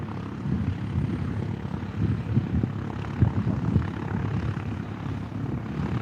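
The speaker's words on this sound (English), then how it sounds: "There's another aeroplane starting up." A propeller airplane engine starting up at Moorabbin Airport, a steady droning rumble with rising, pulsing surges of the engine catching, heard from a moderate distance with no talk.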